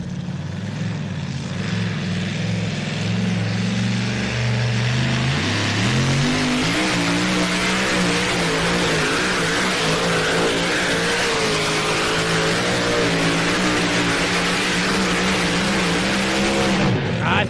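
Sledgehammer, a two-wheel-drive pulling tractor, roars through its run at a European Championship tractor pull in Germany, a loud sustained engine howl that climbs in pitch and drones steadily, then cuts off near the end, with a commentator talking over it.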